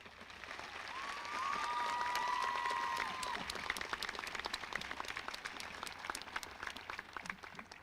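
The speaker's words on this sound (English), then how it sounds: "We now welcome your applause for our distinguished platform party." Scattered applause from a large audience at a college commencement ceremony, moderately distant, swelling briefly then thinning into individual claps.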